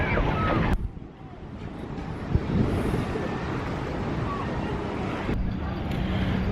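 Steady wind buffeting the microphone outdoors on a pier at Coney Island, a constant roaring rumble with occasional gusts and faint distant background noise.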